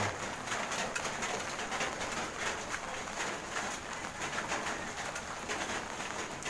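Steady low cooing of pigeons in the rain over a dense, hissing wash of background noise, with no voices.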